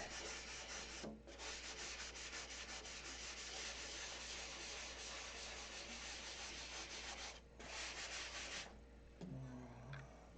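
Continuous close hand sanding of airplane paint, a dry scratchy rasp with two brief pauses, then a final short stretch of lighter strokes.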